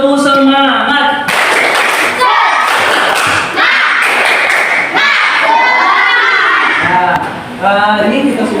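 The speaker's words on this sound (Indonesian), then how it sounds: "kita beri tepuk tangan dulu" A classroom group claps together in dense, sustained bursts of applause, with voices and chatter from the class mixed in throughout.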